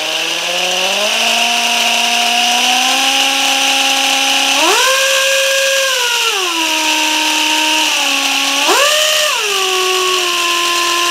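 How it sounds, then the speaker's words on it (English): A die grinder with a sanding disc whines steadily and loudly, its pitch rising and falling twice as the speed changes. "So I've got this disc, sanding disc, on my die grinder"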